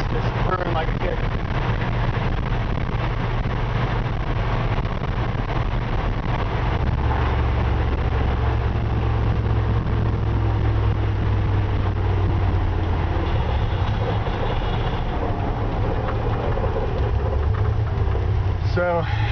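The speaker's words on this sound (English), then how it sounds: "the engine is just purring like a kid." 1954 Ford F-100 pickup engine running while cruising at about 50 to 55 mph, a steady low rumble under continuous road and cab noise, with someone talking over it.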